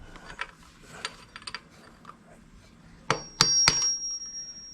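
A wrench working a nut off a Honda Helix scooter engine during bushing removal: scattered metallic clicks and rattles, then a few sharp ratcheting snaps followed by a sustained metallic ring, close by with no talk.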